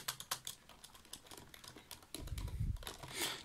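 Keys clack quickly and unevenly on a wet Genius Slim Star 110 keyboard, close up, followed by a louder low thump and rustle near the end.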